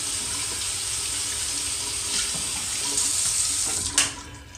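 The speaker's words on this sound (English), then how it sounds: "I'm going to rinse out my brush." A shaving brush is rinsed under a running tap, giving a steady broadband water hiss that holds level, then ends with a brief louder splash near the close. No voices.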